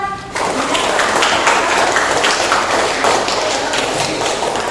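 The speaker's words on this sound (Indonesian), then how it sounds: "Tepuk tangan" Classroom of students clapping together on a teacher's cue, a steady dense patter of hand claps filling the room after a brief pause.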